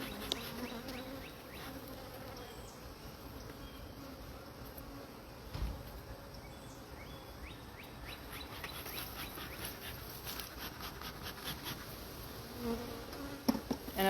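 Honey bees buzzing around a backyard hive, a steady low insect drone that holds for the whole stretch, with faint outdoor background noise and a few brief knocks near the end.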